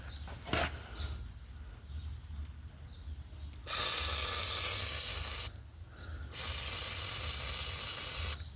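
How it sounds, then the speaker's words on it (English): An aerosol can sprays onto a PowerSmart 170cc lawn mower that was flooded in a basement: a faint earlier click, then two long, loud, steady hissing bursts separated by a short pause, close to the mic. "Okay, so we sprayed that."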